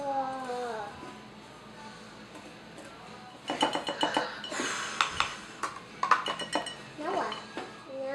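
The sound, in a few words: mixing bath bomb ingredients in a bowl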